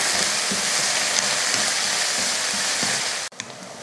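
Onions sautéing in oil with plenty of curry leaves for a goat intestine gravy, a loud, dense, continuous sizzle with faint stirring taps, cutting off abruptly near the end.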